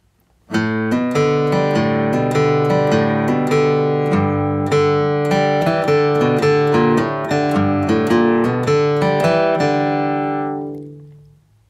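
Flatpicked acoustic bluegrass guitar plays the B part of Cripple Creek, mixing traditional melody with a bluegrass lick in a steady run of bright, close, clearly picked notes that ring out alone and fade at the end.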